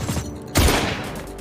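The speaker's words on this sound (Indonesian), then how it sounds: "Tembakan pun kembali terjadi." A sudden burst of gunfire erupts after a brief rumble, a loud crackling blast that trails off into a lingering noisy wash.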